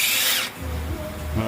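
A power tool loosens 17 mm brake caliper bracket bolts on a Toyota Tundra front brake, with a loud high whir that drops into a lower grinding spin, close and brief.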